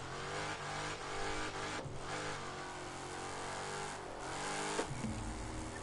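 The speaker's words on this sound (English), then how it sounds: "it's a Hemi, but it's tuned to be at a Hellcat spec" A tuned Hemi V8 car engine, built to Hellcat spec, roars and revs loudly and continuously close by, its pitch climbing and dipping through short throttle swells.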